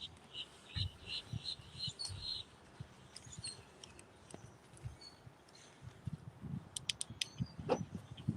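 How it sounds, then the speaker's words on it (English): Small bird squeaking and chirping in short high bursts at a Walt Disney World park, fairly faint over busy outdoor background noise and scattered bumps. "I do like hearing the bird squeak at you."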